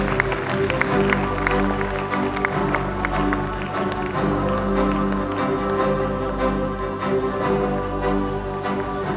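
Parents applaud at a school award ceremony as staff scholarships are handed out, a steady wash of clapping from a large audience over a sustained tonal backdrop, continuing without a break.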